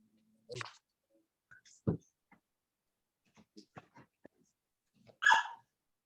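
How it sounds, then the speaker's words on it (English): A small dog gives a few short, soft barks and whimpers in a quiet room, with sparse faint clicks and rustles between them and a louder final yelp. "That was such a little bark."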